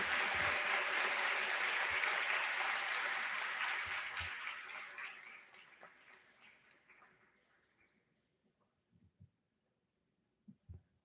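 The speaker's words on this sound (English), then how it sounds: "Let's give them one more round of applause" Crowd applause at a school graduation ceremony honoring graduating students: loud, full clapping that holds for about four seconds, then fades gradually to silence, leaving only a few scattered faint knocks.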